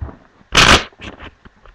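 A deck of playing cards being shuffled by hand during a card trick, a short burst of riffling and a few soft flicks, close and fairly loud.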